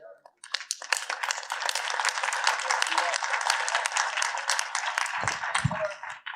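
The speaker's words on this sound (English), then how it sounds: "So give yourself a big round of applause" Loud, dense applause from a student audience at a talk, rising quickly and sustained for several seconds. A voice briefly speaks as the clapping fades at the end.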